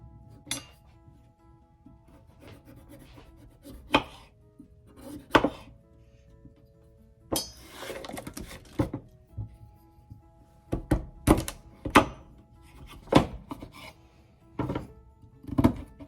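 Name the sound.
chopping yuca root into pieces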